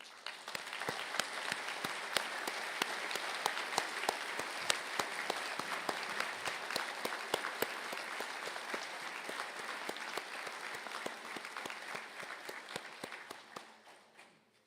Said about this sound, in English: stand for a well-deserved round of applause